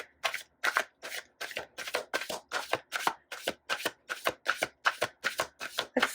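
Tarot cards are shuffled in a steady run of about eighteen crisp riffling bursts, close and fairly quiet, each separated by a brief pause, with no talking.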